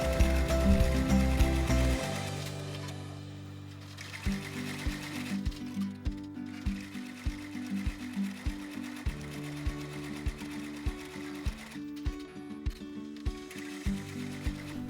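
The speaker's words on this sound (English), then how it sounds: "We will now run the finishing tack down stitches" An embroidery machine runs tack-down stitches on a fabric mask held in a hoop, giving a steady, close mechanical rattle of fast, evenly repeating needle strokes after a brief louder whir at the start.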